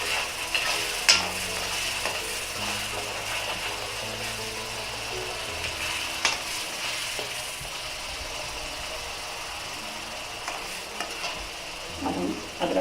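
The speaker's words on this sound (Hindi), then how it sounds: "अब हम अदरक पेस्ट डाल देंगे।" Ginger and garlic paste fries in an iron kadhai for aloo gobhi, giving a soft, continuous sizzle with occasional sharper scrapes of a stirring spoon, close but fairly quiet.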